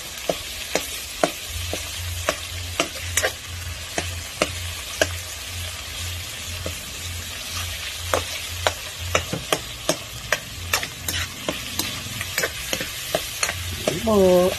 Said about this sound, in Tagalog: durugin ko yung kamatis